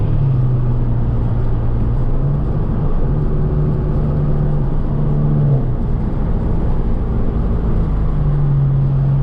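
A VW MK7 GTI fitted with a Mamba GTX3071R turbo makes a full-throttle pull, heard from inside as a loud, steady engine drone whose low tone shifts in steps over the run.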